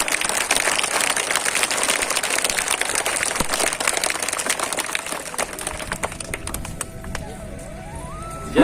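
A crowd of pupils and staff claps for a teacher at a school program, dense continuous applause that thins and fades over the last few seconds.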